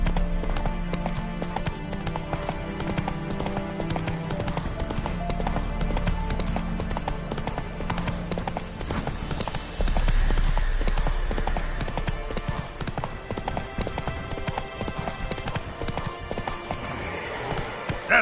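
Roach, a horse in The Witcher 3, trots with steady clip-clop hoofbeats close by, a brief whinny rising among them over a continuous backdrop of game music.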